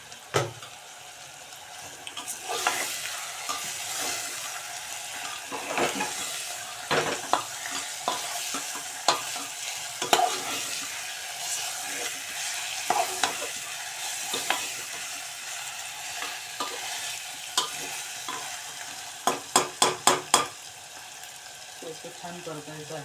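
Onions and spices sautéing and being stirred in a pan for chicken gravy, a steady sizzle with frequent scraping stirs and clinks, ending in a quick run of sharp taps.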